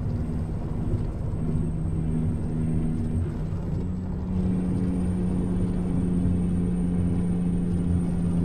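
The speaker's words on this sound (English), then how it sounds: "I think I'm gonna turn up the truck audio." A truck engine in a trucking video game rumbles steadily at a low, droning pitch, holding a constant level throughout with no talking over it.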